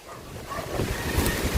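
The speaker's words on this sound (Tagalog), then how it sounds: "andito kami sa ilog, oh" River water flowing outdoors, a steady broadband rush mixed with wind buffeting the microphone, continuous and fairly loud with no voices.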